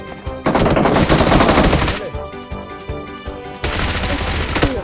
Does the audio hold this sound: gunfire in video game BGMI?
yes